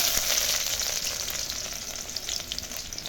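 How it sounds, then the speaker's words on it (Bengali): Chopped garlic sizzles in hot oil with whole cumin, three cardamom pods and a piece of cinnamon for masala dal. The frying crackles loud and close, with bright spattering pops. "এই রসুনটা যতক্ষণ না লাল লাল হয়ে ভাজা হচ্ছে ততক্ষণ এটাকে ভেজে নেব"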